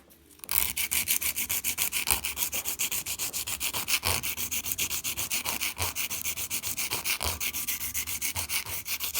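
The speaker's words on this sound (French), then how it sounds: "comme ça on teste un peu la lime." Nail file rasping back and forth across a fake nail, shaping it round in quick, steady, close strokes that repeat without a break.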